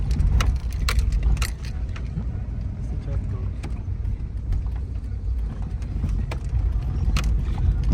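Car driving through an Afghan village toward the Panjshir gorge, steady engine and road rumble from inside with rattling clicks and knocks, while people talk over it.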